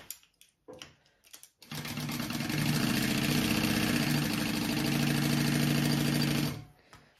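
A sewing machine stitches the bottom of a Kaylee crossbody bag closed, running steadily for about five seconds after a few brief handling bumps, then stopping.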